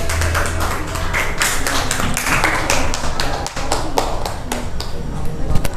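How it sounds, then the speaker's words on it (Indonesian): Classroom applause for a student group, a burst of many hands clapping in quick irregular rhythm, loud and close, with voices mixed in. "Aplaus dulu untuk kelompok 3."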